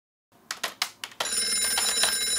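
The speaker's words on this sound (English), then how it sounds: "Yo, banana, call Max." Ring of a banana-shaped phone, a few sharp chime pulses followed by a sustained bright ringing tone, loud and close with no voices.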